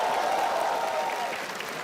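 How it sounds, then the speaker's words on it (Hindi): Comedy show crowd applauding the opening act, a thick wash of clapping with some cheering voices, loud at first and easing slightly as it goes on. "थोड़ी तालियां हमारे ओपनिंग एक्ट के लिए भी।"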